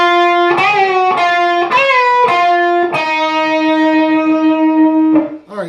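A distorted electric guitar plays the refrain lick from a song in 11th position: a few quick bent notes, then a long sustained note ringing out loud and alone before cutting off.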